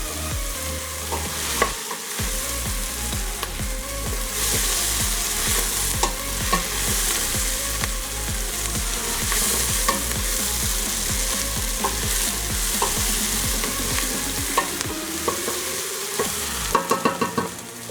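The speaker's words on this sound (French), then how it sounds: "je fais revenir les oignons un beau gros 5 minutes pour obtenir une belle coloration" Onions fry in a pan as the base for a soup, a loud, steady sizzle with occasional stirring scrapes that runs throughout, close and unbroken, with no talk over it.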